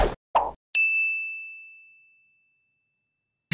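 A single bright notification bell ding rings out clearly after a couple of short soft sounds, then decays smoothly into silence over about a second and a half.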